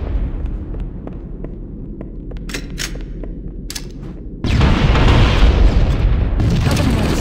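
In Halo CE, Covenant forces destroy escaping life pods: several scattered muffled thuds and sharp cracks give way to a loud, sustained explosive roar that swells abruptly and stays heavy to the end.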